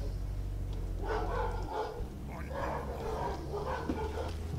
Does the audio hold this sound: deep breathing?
no